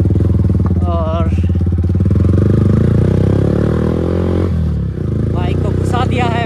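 Yamaha R15 V3 motorcycle ridden along a rough, broken road, its engine droning steadily and loudly with rattles and clatter, while someone talks over it.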